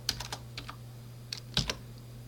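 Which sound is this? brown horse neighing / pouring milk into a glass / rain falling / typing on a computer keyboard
typing on a computer keyboard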